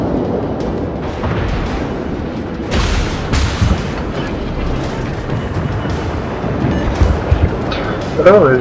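Naval guns fire in World of Warships battleship combat, heavy booms and rumbling blasts spread across the clip amid continuous low engine and water noise, with a player talking.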